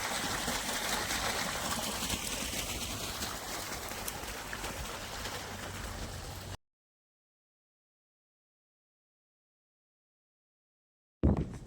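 Water gushes steadily from a pipe in a continuous, even rush for several seconds, then cuts off abruptly into silence. A brief burst of noise returns at the very end.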